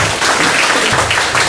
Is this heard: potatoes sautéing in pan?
no